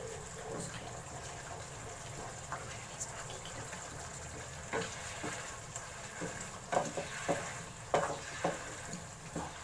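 Thick masala mixture stirred in a pan while making chicken tikka macaroni, soft scraping and sloshing with a low sizzle underneath, the strokes growing louder and choppier toward the end.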